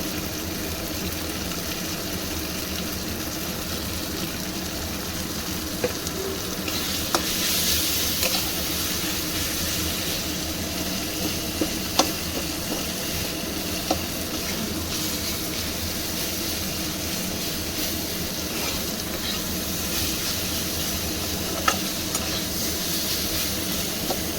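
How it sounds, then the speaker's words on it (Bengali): Ginger, garlic and tomato paste with turmeric sizzles and fries in a pan while being stirred, a steady close hiss with occasional light scrapes of the spoon. "একটু টমেটো নরম হওয়া পর্যন্ত নেড়ে নেব"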